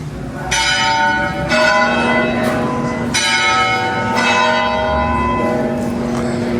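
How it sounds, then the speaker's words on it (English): Church bell tower ringing at a cloister in Portugal, a loud, resonant bell striking repeatedly at a steady pace, each stroke overlapping the ringing decay of the last, with no voices. "Here's the cloister again from another angle. You can hear the bell tower going."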